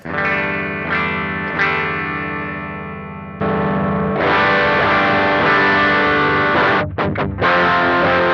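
Sustained clean electric guitar chords ring out, then a thicker, more driven tone from a Klon-style overdrive circuit kicks in and continues, with brief dips near the end.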